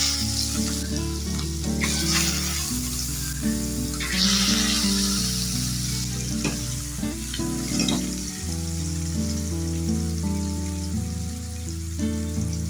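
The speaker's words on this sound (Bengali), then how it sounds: "তেল ভালোভাবে গরম করে নিয়েছি এই যে নুন হলুদ মাখিয়ে রেখেছিলাম মাছটা দিয়ে দিচ্ছি" Rohu fish pieces rubbed with salt and turmeric sizzle steadily in hot oil, a close, continuous crackle and hiss that runs throughout beneath louder background music.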